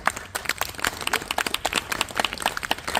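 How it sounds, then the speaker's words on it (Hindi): Audience applause at a yoga talk on back pain and joint pain, with a crowd clapping steadily and loudly, sharp irregular claps filling the whole stretch without speech. "इनके लिए भी जोरदार तालियां"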